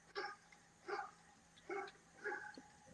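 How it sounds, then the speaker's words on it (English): Dogs across the street bark four times in a regular rhythm, distant and fairly faint, with quiet background between barks. "I can hear I the am, dog. because you hear the dogs."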